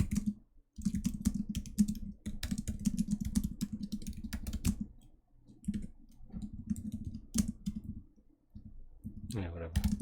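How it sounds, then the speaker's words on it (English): Quick, uneven clicking of computer keyboard keys comes in bursts with brief pauses, close up and fairly quiet, during coding practice at a desk. "I am a little bit slow on the typing."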